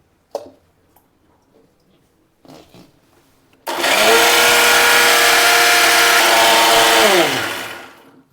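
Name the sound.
mixer grinder grinding dosa batter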